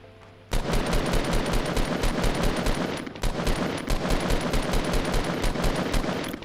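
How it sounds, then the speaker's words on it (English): Rapid automatic gunfire in Fortnite Battle Royale opens abruptly and hammers on in steady, evenly spaced loud bursts for several seconds, briefly pausing midway before resuming at the same close, dense rhythm. "They're shooting at me."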